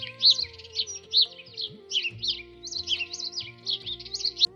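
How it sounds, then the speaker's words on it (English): An Indian sparrow chirps close by in quick repeated bursts of bright, high notes, with a low steady hum and some faint background tones underneath. "this beautiful chirping sound of the Indian sparrow"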